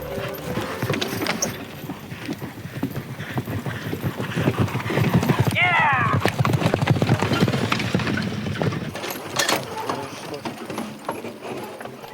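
A four-in-hand team of black Friesian horses pulls a carriage during a driving obedience test, hooves clip-clopping in a steady, close rhythm with a faint rattle of harness and carriage, and a short whinny partway through.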